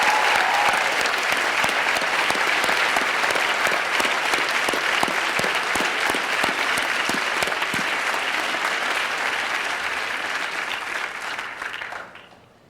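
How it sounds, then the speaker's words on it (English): Sustained applause from a large audience at a 2015 academic awards ceremony honoring staff service, dense and steady for about twelve seconds before trailing off at the end. "Let's give them all a round of applause"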